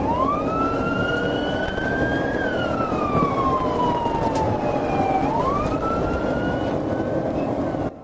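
A police car siren wails continuously, sweeping slowly up and down in pitch, loud and close over steady road and engine roar during a high-speed chase of a stolen Mercedes.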